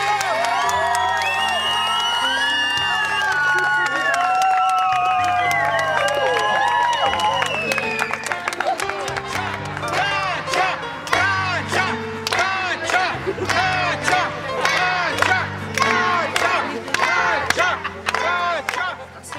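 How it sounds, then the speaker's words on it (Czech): A summer camp crowd at Heroltice roars with whoops, shouts and cheers over loud music, then breaks into rhythmic, forceful clapping in unison that carries on to the end. "Velký potlesk!"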